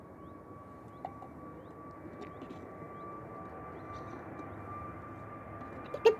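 A distant EasyJet jet airliner bound for Tenerife South drones steadily at Manchester Airport, a faint continuous engine hum holding level throughout with a slight swell near the end.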